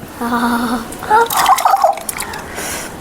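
Mohabbat ka Sharbat, a sweet summer drink, poured into a tumbler, giving a short splashing, trickling pour while voices talk over and around it.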